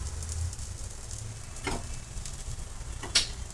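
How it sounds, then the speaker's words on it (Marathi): Bottle gourd thalipeeth frying in a pan, a soft steady sizzle with faint crackles and a couple of brief clinks, no voices. "आणि थालीपीठ देखील मी टाकून घेतलेलं आहे."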